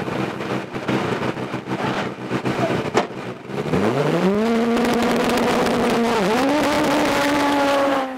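A four-wheel-drive hillclimb race car engine roars to life and accelerates hard off the line at Gurston Down, its pitch climbing steeply, then dips briefly before rising again into a loud, sustained howl.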